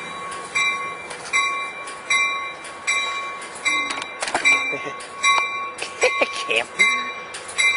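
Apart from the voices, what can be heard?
Coaster commuter train passing Oceanside station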